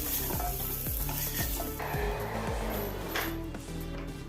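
Dried shark fish frying in a pan, giving a steady, dense sizzle throughout with a regular series of soft ticks and pops underneath.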